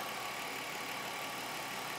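A car engine idles smoothly during a vacuum gauge diagnostic test, giving a steady, even low hum that runs unbroken and fairly faint, with no voices.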